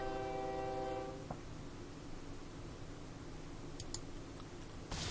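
A train horn sounds from the OpenTTD railway game, a sustained tonal blast fading after about a second, followed by low steady rail rumble and a couple of faint clicks.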